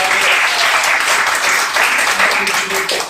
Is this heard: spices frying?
no